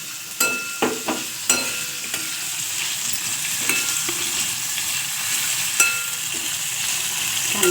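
Oil sizzling steadily in a pan while green beans and potato sabji cooks, a continuous bright hiss broken by a few sharp clinks and scrapes of a stirring spoon, close and alone.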